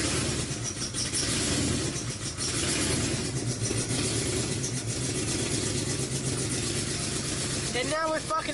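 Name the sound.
car engine idling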